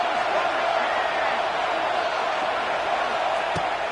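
Football stadium crowd at a Wolfpack versus Michigan State game, a continuous loud roar that holds steady throughout, with one sharp knock near the end.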